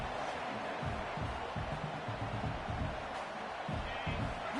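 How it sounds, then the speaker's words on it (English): Stadium crowd in a college football video game, Vanderbilt versus Missouri, keeps up a steady broadband roar with repeated low rumbling swells, fairly loud and continuous. "Listen to the crowd energy here in the early going."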